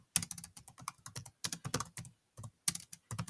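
Someone types on a computer keyboard in short bursts of crisp keystrokes separated by brief pauses, close and clear with no voices.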